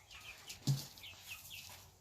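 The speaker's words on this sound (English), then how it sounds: "These are actually French chickens." Faint clucking from French chickens kept as pets, soft low calls with one brief louder cluck in the middle, quiet and a little distant.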